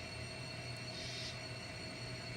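A model coal train runs on a siding of a model railroad layout, giving a faint, steady metallic wheel squeal and rolling hum that continues evenly throughout.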